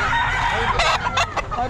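A rooster crows loudly and close at a busy pet market in Bocaue, its harsh cock-a-doodle-doo breaking out in several bursts over a steady murmur of chickens clucking and background crowd noise.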